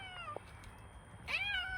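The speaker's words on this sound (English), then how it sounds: "That's our indoor cat stuck in a tree," A cat stuck in a tree outdoors meows twice, a short faint cry followed by a longer, louder, rising and falling meow, heard fairly close in otherwise quiet surroundings.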